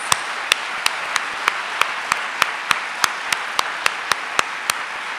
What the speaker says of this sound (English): give a big round of applause to all of these wonderful firsts